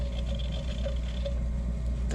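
Harbor Freight rock tumbler spins steadily with a continuous low mechanical hum and a faint rubbing whir, close and even, with no voices.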